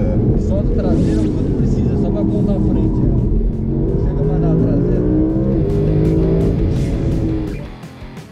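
An Audi R8 GT4 race car drives with a steady, loud engine roar and rising gear-change tones throughout, fading at the end, while someone talks over it.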